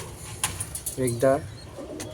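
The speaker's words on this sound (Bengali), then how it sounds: "এখানেও কিছু পায়রা আছে।" Pigeons in a loft coo nearby, a few soft throaty calls rising over faint background noise while someone speaks in between.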